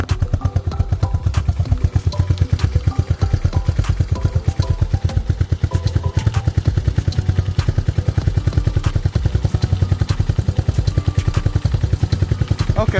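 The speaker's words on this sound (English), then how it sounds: "Let me turn this idle up some." A Lifan KP Mini 223 OHC motorcycle engine idles up close, a steady, loud, rapid thumping putter that holds an even rhythm throughout with light mechanical clatter.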